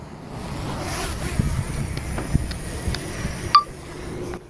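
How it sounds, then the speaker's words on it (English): Gusty wind buffets a drone flying over water near Halifax, a rough rushing roar with scattered thumps and a brief sharp whine partway through, fairly faint with no voices. "It's kind of fighting the wind here. We're fighting the wind."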